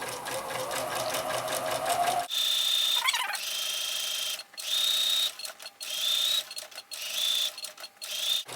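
A sewing machine stitches a bunny table topper, first in a dense continuous run, then in short start-stop bursts with pauses between, close and clear.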